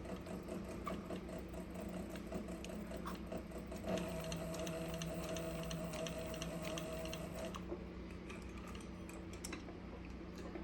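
A Cobra Class 26 leather sewing machine, fitted with a big needle and no thread or bobbin, runs in a rapid, steady mechanical ticking and thumping rhythm, faint and close, stopping near the end.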